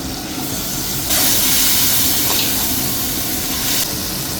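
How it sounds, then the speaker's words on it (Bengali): Marinated beef hits a hot pan with dry chillies and spices, giving a loud, steady sizzling hiss that swells and then holds. "এখন আমি মেখে রাখা মাংসটাকে এবার দিয়ে দিচ্ছি।"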